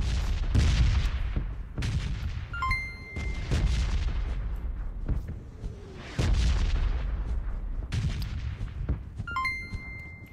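Rapid bursts of gunfire and heavy booming shots from the mobile battle royale game PUBG Mobile, repeating in loud clusters across the span with brief metallic pings between volleys.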